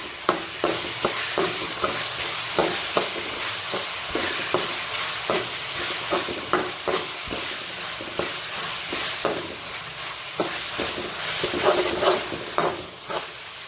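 Slit green chillies are sautéed in a pan for a jackfruit biryani, with a continuous sizzle of hot oil and a regular rhythm of spoon strokes scraping and stirring, close up and without any speech.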